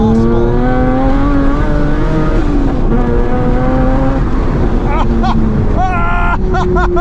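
A 500hp classic Mini engine on light throttle gives off a loud, rough, harmonic-rich drone with small pitch swells, and bursts of talk from the car's occupants come over it toward the end.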